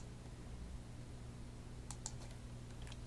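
Soft clicks of typing on a computer keyboard, a few quick light keystrokes over a low steady hum, faint and close.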